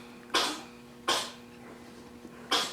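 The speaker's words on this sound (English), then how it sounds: "Cat's coughing." Three short, breathy hacking bursts spaced about a second apart over a faint steady hum, a cat coughing nearby.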